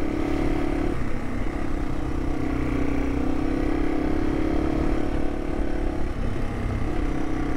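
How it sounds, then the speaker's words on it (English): A Yamaha TW200 motorcycle on its factory exhaust rides along a woodland trail, its mid-pitched engine drone loud and steady throughout with a slight dip in tone near the one-second mark. "For factory exhaust, the TW is a little loud, but it sounds good."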